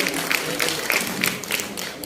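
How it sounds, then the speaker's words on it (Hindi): Audience applause in an auditorium at a Constitution Day event in Jaipur, a brief patter of scattered claps at moderate distance, fairly light and uneven. "तालियां बजाकर हौसला अफजाई करते रहे।"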